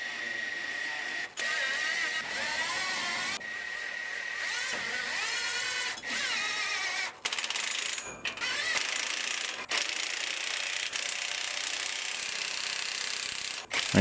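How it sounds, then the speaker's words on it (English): A ratchet wrench tightens the U-bolt nuts on a dump trailer being rebuilt after a collision, giving a steady close-up run of rapid clicking that is broken by brief pauses between strokes. No one speaks. "When you tighten them up, you want to kind of tighten them evenly."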